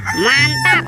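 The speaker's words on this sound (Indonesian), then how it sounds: "ayam berkokok." A toy animal sound of a rooster crowing, with a honking, harmonic call that rises and holds. A voice briefly speaks over the end.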